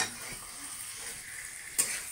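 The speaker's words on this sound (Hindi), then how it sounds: "देख सकते हैं पूरा एकदम मसाला तरकड़ी लगा के हम लोग का भुंजा रहा है" Chicken coated in masala frying in a pan while being stirred, a steady close sizzle with soft scraping strokes and one brief clink near the end.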